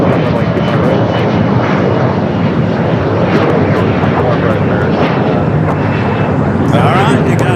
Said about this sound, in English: Foxtrot, clear for takeoff.